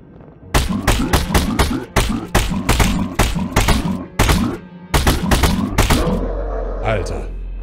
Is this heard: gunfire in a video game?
yes